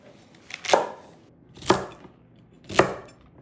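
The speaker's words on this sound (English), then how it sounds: "I'm just going to roughly chop them." A knife roughly chopping scrubbed organic carrots and celery on a board, three separate crisp chops spaced about a second apart, close and clear with no talking.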